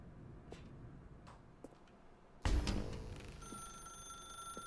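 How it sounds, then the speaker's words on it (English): A telephone rings in the video game The Stanley Parable, starting suddenly midway with a loud burst and then a sustained bright ringing tone over faint ticking in the quiet background. "Now pick up the phone."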